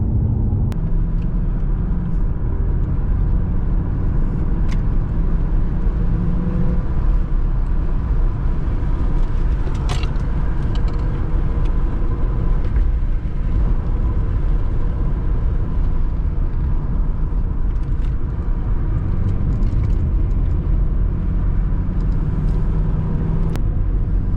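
A 1991 Mercedes 500SL cruises along mountain roads at sunrise, its engine and road noise forming a steady, loud cabin rumble with occasional faint clicks and no talking.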